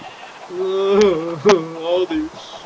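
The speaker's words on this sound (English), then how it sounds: "All these sheep need loving." A sheep bleats in the Minecraft video game, a wavering nasal call followed by a shorter second bleat, with a person speaking around it.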